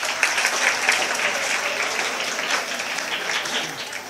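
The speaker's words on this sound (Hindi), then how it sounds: "जोरदार ताली बजाई माशाल्लाह" Audience applause at a career guidance programme, a dense steady patter of many hands clapping throughout, loud and sustained with a faint voice underneath.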